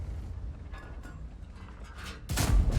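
In World of Tanks, a tank cannon round, likely from an Object 268, slams into the side of a TVP: a sudden loud, booming impact near the end, after a low mechanical rumble of engine and tracks.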